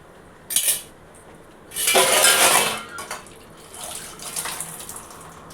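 Water poured into an egg curry gravy in a pan: a short metallic clink, then a few seconds of bright splashing pour that tapers off.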